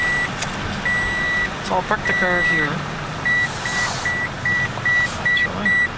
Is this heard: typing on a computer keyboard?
no